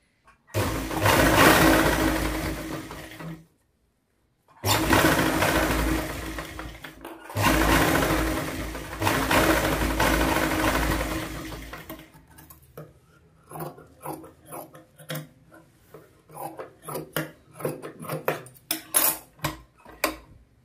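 An electric sewing machine stitching blouse cloth runs in loud sustained bursts with short pauses between them, then gives way to scattered clicks and handling noises.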